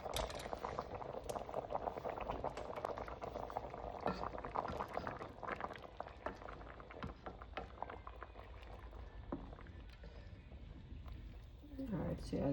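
A pot of Jamaican stew peas with smoked turkey neck and pigtail bubbles and simmers, a busy gurgling boil with scattered pops and clatter, a voice talking over it at times.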